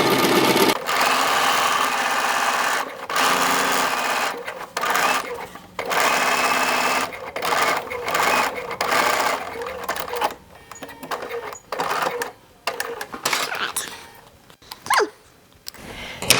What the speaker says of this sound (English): we're just going to stitch down the middle of the collar here